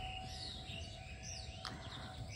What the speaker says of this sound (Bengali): পাখি কিচিরমিচির কিচিরমিচির আওয়াজ শুধু